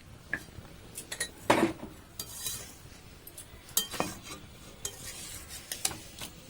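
A utensil scrapes and clinks against a pan as fried rice with ghee is stirred, with irregular close knocks and scrapes over a faint sizzle and no talking.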